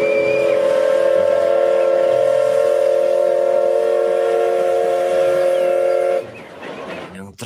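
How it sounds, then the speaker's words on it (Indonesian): A toy Thomas the Tank Engine train sounds a sustained, loud, tonal whistle that holds steady for about six seconds before stopping, with a short bit of voice or handling noise after. "Wih, kereta Thomas."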